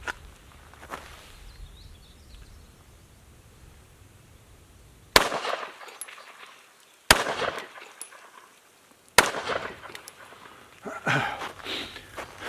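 Three loud gunshots fired at a target with the muzzle about a foot away, each a sharp crack at roughly five, seven and nine seconds, separated by quiet stretches with faint outdoor background.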